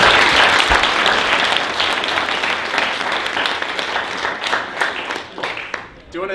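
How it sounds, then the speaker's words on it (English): An audience at a tech meetup gives a round of applause for presenters, loud sustained clapping that gradually thins over about six seconds, ending with a few scattered claps. "All right, let's give a round of applause."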